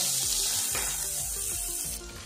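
Chopped carrots with salt cook in a pan with a loud, steady hiss of frying, close up. Faint stirring scrapes run through it, and the sizzle eases a little near the end.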